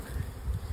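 Honey bees buzzing inside a possum box during a hive cut-out, a low, steady hum with soft swells, close and fairly quiet, with no voices.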